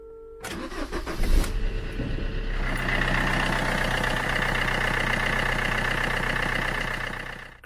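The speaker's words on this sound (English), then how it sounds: "Start the engine." A diesel car engine cranks briefly during a battery crank test, catches, and settles into a steady, loud idle with a faint mechanical whine.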